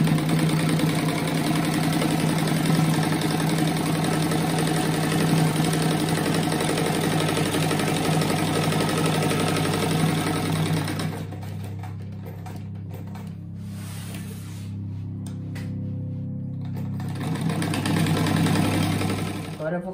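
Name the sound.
sewing machine stitching fabric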